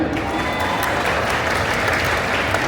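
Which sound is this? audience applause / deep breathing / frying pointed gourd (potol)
audience applause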